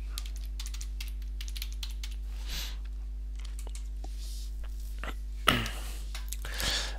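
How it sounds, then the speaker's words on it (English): Quick bursts of keystrokes on a computer keyboard as an email address is typed, close and clear over a steady low electrical hum, with a few louder clicks near the end. "I'll type in the email address for my demo account."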